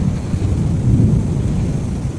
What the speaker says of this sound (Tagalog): Medyo may pagkulog at may pagkidlat.